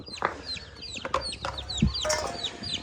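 Two roosters cluck and murmur nearby in short, irregular bursts, with several overlapping calls and no talking.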